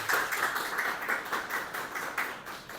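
An audience claps for a few seconds at a public discussion on preparing Amazonian cities for climate change, dense overlapping handclaps with small surges, close and fairly loud.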